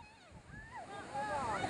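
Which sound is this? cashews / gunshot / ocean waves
ocean waves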